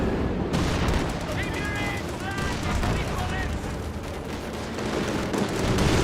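Machine-gun fire from an aircraft strafing run in Company of Heroes 2 rattles in dense bursts over a steady wash of battle noise, loud and continuous throughout.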